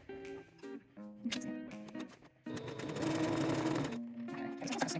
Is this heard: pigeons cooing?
no